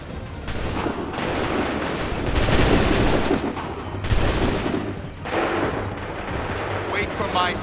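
Musket volleys roar in an 18th-century battle in Assassin's Creed III, loud and sustained with dense crackling bursts and heavy rumbling that swell and fade in waves.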